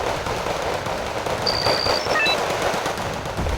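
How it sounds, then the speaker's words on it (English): Artillery and gunfire in the war strategy game Wargame: Red Dragon, a dense, continuous rattle of rapid shots and booms with a few thin whistling tones over the top, steady and loud throughout. "Wow, the artillery following us right in."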